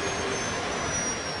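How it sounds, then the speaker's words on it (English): An Airbus A320 jet engine runs in reverse thrust on the runway, giving a dense, steady roar with a faint high whine, loud and unbroken throughout. "The plane's left engine was in reverse"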